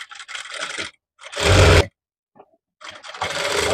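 An electric sewing machine stitches blouse fabric in short loud bursts, three separate runs of rapid whirring separated by pauses, close to the microphone.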